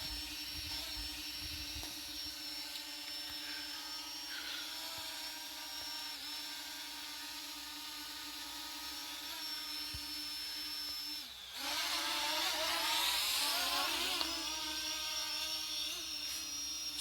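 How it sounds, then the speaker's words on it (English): A Parrot ANAFI drone flies in to land, its rotors giving a steady high whine that holds for many seconds, then rises louder and harsher near the end as it comes close. "Okay guys, I will land the drone and see you in the conclusion of the video."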